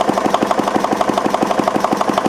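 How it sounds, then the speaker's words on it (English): A Wittie engine runs at no load near its rated 720 rpm, producing an even, fast, regular chugging beat of steady thumps that goes on with no talk over it. "So now the engine is at no load conditions."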